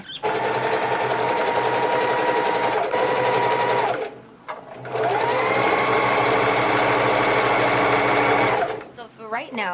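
A sewing machine stitches a garment in two loud, close, sustained runs, with a short break between them and a quiet stop at the end.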